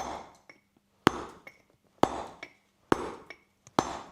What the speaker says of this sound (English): I place the chisel down on the platform, cut.